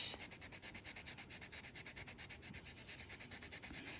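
Micro mesh rubs back and forth over a polymer clay ring in quick, even strokes, a faint, close, steady scratchy rhythm of about four passes per second, with no voices.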